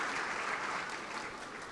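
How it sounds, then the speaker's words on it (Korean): A church congregation applauds at a Christmas thanksgiving service, a steady, dense clapping that holds evenly at moderate volume throughout. "축하의 박수 부탁드리겠습니다."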